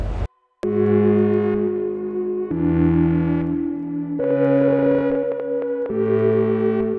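Sustained Dreadbox Medusa synthesizer chords that shift pitch in steps, with a wobbling, pulsing LFO modulation running through each held tone; loud and alone, no voices.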